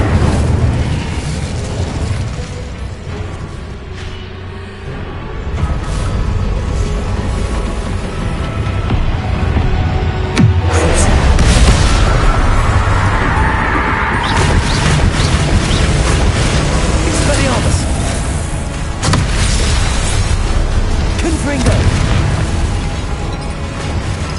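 Fiery Incendio spell blasts from the video game Hogwarts Legacy burst one after another, loud and close, over a dense rumbling battle din that never lets up.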